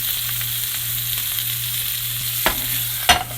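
A cheese-topped burger sizzles and fries steadily on a hot griddle, a continuous close hiss with a couple of brief sharp clatters near the end and no talk.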